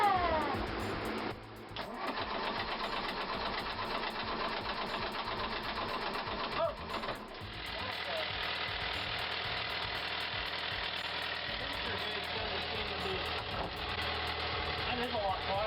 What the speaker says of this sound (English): It's really nerve-wracking when you rebuild the engine and then you go to start it.